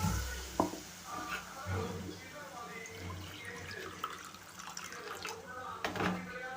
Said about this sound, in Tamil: அந்த மிக்சிட்டையே நல்லா அலசி அந்த தண்ணியும் சேர்த்துக்கிறேன்